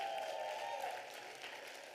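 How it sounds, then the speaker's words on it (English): Faint applause rises from the audience at a civil rights symposium for the Freedom Singers, a soft, distant wash of clapping that thins after the first second. "One more round of applause for the Freedom Singers."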